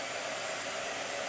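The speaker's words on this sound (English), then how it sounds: "I wasn't expecting a blow dryer out of the gate." A blow dryer runs with a steady, loud, unbroken whoosh, close by, with no talking.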